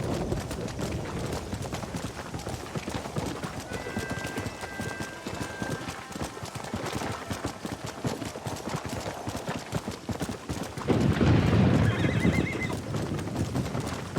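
A horse in the Red Dead Redemption 2 video game whinnies loudly and repeatedly while its hooves clip-clop steadily throughout, with a louder burst of movement near the end.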